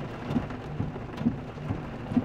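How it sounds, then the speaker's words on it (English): A monsoon hailstorm in Sedona pounds down as a steady, dense rush of impacts, with a few sharper knocks breaking through at intervals and no voices. "It's a lot of hail. It's a hailstorm."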